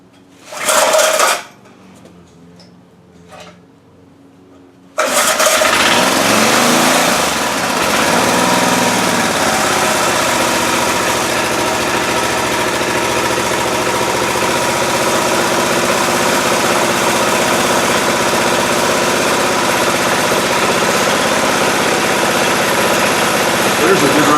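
A small engine on an early-to-mid-1960s machine is started with the choke out and the throttle open. After a few brief sounds it catches and settles into a loud, steady running drone that continues to the end.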